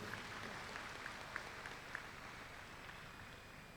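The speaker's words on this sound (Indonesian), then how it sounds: "Sekali lagi tepuk tangan yang meriah untuk beliau." Audience applause at a university thesis and degree ceremony, a steady even patter of many hands clapping throughout, moderately distant and fairly quiet with no talk over it.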